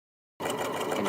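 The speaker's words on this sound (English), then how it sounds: "I'm just going to go a little off my 1/4 inch seam allowance so I can go around my notches" A sewing machine stitching a raglan sleeve seam on a Kwik Sew hoodie starts abruptly after a short silence, then runs at a steady, close, rapid whirring pace.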